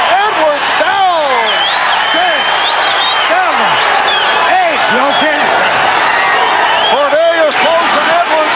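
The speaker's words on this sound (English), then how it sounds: "crowd urging Chacon on" A boxing arena crowd cheers and applauds after Bobby Chacon knocks down Cornelius Boza Edwards in their 1983 super featherweight title fight, a loud, continuous roar with claps and shouts swelling throughout.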